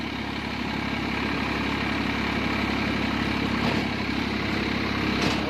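Swaraj 843 XM tractor diesel engine running steadily close by, a continuous even drone with no talk, while it works a Dharanee 42-blade rotavator in damp coconut-plantation soil.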